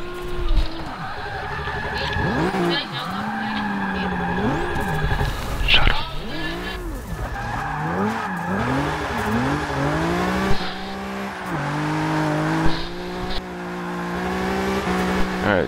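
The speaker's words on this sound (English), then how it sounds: "Very rough drifting on this track." Engine revving and tire squeal from a car drifting in the racing game Forza Motorsport 6, with pitch swooping up and down through repeated slides, loud and continuous, and someone talking over it.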